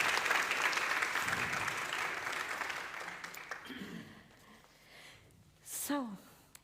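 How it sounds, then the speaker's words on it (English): An audience at an alliance meeting applauds panel members with a full round of clapping that gradually thins out. A voice begins speaking near the end. "A very warm applause for them"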